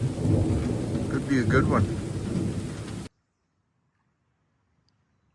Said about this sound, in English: Finally getting a little bit of rain and a pop-up thunderstorm. Pretty steady thunder.